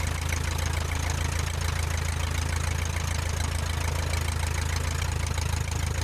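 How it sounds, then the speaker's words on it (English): A Luscombe light airplane taxies toward the end of a runway, its piston engine idling with a steady, loud low drone and throb that holds even and close throughout, no voices over it. "I should just keep taxiing all the way to the end here."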